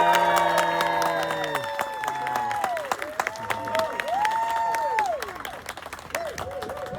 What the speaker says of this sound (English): Please, with the biggest round of applause you can muster up in your body